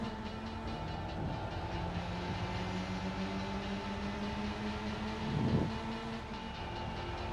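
Engine of a Volkswagen Lupo inline-four in Gran Turismo 4 drones at a steady tone with faint overtones, swelling briefly near the end, with no voices over it.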